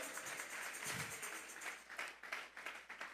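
A church congregation claps together in a sustained wash of applause that breaks into more distinct, scattered claps toward the end, moderately quiet and with no speech over it.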